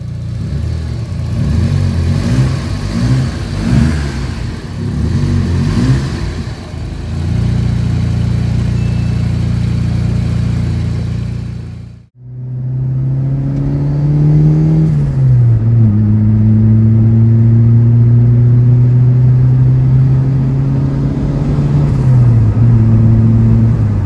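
A turbocharged Honda Civic, just fitted with a new fuel rail, runs with a rough, loud engine drone, then cuts briefly before starting again into a steady idle that rises and settles in pitch.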